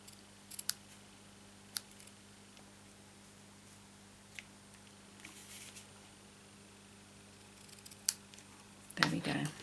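Scissors trimming ribbon tails from a bow on a handmade greeting card give a few quiet, sharp snips spread over several seconds in a hushed room, with a louder rustle of handling at the end.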